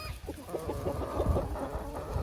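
A flock of farm hens and roosters clucks in a busy, overlapping chatter, close and fairly loud, with short repeated calls layered over a low farmyard background.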